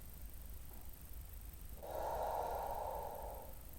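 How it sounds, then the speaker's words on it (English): A single audible breath, drawn in softly during a stretching class, faint and close with a quiet room around it. "Okay, breathing in."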